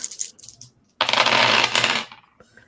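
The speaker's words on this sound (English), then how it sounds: "That's so many dice." A big handful of dice is rolled during a tabletop vampire role-playing game, making a dense, loud clatter for about a second that settles into a few last rattles.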